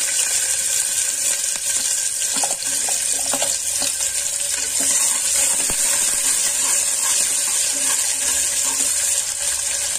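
Onions and vegetables are added one by one to hot oil for a Malnad-style vegetable pulao, giving a loud, continuous hissing sizzle with small crackles throughout, close up and uninterrupted.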